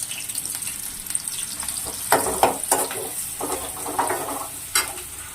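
Onions sizzling in oil for gongura mutton curry, a steady hiss broken by irregular louder crackles and stirring scrapes, close and alone with no talk.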